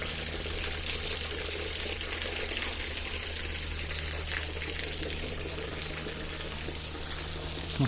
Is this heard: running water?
yes